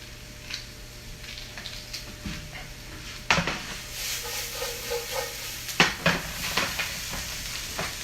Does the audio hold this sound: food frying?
yes